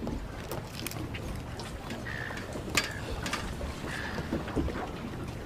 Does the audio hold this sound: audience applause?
no